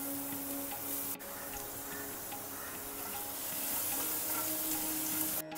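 Cumin, garlic and asafoetida crackle in hot oil for a dal fry tadka, a faint, even sizzle with light ticking pops throughout and a brief knock or two.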